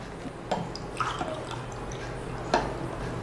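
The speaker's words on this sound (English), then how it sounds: "Now, I'm going to pour water into one of the glasses." Water trickles and drips into a glass in a few small splashes, with little bursts near the start, middle and end, close and fairly quiet.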